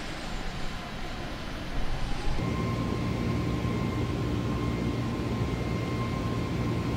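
Airbus A320neo airliner in Microsoft Flight Simulator 2020, heard from outside as a steady engine roar and hum that swells after a couple of seconds and then holds level and fairly loud, with no talking.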